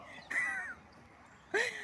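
A crow in a garden gives two harsh caws about a second apart, clear and fairly close against quiet outdoor background noise.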